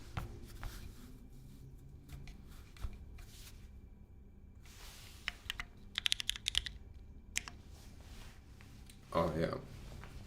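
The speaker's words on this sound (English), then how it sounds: "Anyways, let's type on the keyboard." Quiet typing on a KBDfans Agar custom mechanical keyboard with scattered clacks and a short burst of quick keystrokes, then a louder clatter near the end; soft background murmur throughout.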